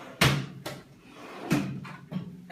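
A drawer in an exam room being pulled open and pushed shut, giving a few sharp wooden thuds and slides spaced about a second apart, close by with no talk.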